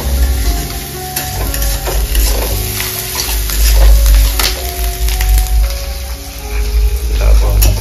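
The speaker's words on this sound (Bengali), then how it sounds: "তারপরে দিয়ে দিচ্ছি টমেটো" Tomatoes sizzle and fry in a hot pan while a utensil stirs and scrapes, with a steady hiss throughout.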